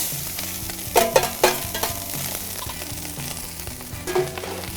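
Cooked rice fries in olive oil on a REC TEC Matador griddle over medium-high heat, giving a steady close sizzle with a few louder scraping stir strokes near the start and again toward the end. Nobody speaks.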